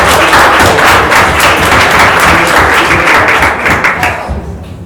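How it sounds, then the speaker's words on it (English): Dense, loud round of applause from a workshop audience, many hands clapping at once in a steady roar that fades slightly toward the end. "can we do a round of applause for Dailymotion and LinkedIn folks?"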